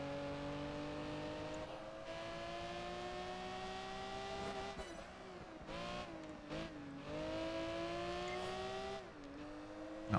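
Ferrari Enzos and 288 Evos race in Project Gotham Racing 4 through Gotham. Their engines whine at a steady pitch, dip and climb again through gear shifts, and the revs return to a long rising tone before a sharp hit at the end.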